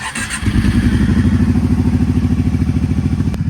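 A Kawasaki KFX 700 ATV engine cranks and catches, then settles into a loud, steady, close-up idle with an even pulsing rhythm and no talking.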